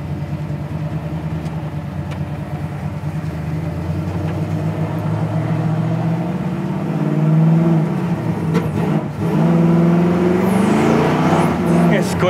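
The fuel-injected engine of a 1969 Camaro convertible rumbles steadily up close, a low, even throb that briefly swells in pitch before settling, with people talking over it.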